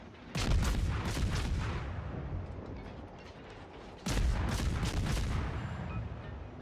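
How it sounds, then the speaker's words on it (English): Naval gunfire from the Nicholas destroyer's 127mm guns in World of Warships, two heavy booming volleys with a long rumbling decay, each salvo loud and full with rolling crackle. "I waited a little until I was inside of his smoke to start shooting"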